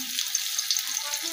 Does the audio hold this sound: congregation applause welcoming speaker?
no